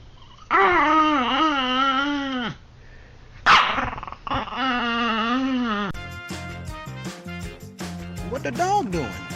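A dog barking and growling in loud, drawn-out vocal bursts with short pauses between them, followed by a stretch of background music mixed with further yelps.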